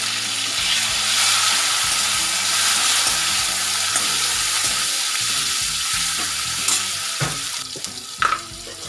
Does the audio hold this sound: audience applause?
no